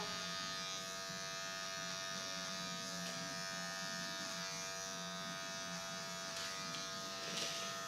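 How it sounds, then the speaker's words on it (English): An electric hair clipper buzzes steadily and close while cutting a flat top haircut, a continuous hum with a slight rise near the end. "So moving the clipper up, keeping the comb moving as well."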